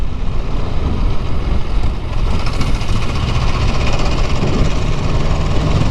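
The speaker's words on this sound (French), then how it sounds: "Testons la souplesse du moteur." Aprilia Tuono V4 2018 motorcycle engine pulling from low speed in sixth gear, a steady loud broadband roar with constant rumble and wind noise throughout, no voices.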